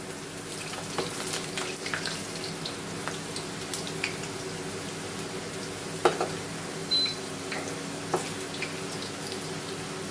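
Tomato fries frying in a pan, with a steady, quiet sizzle and bubbling throughout and a few small crackles and pops on top.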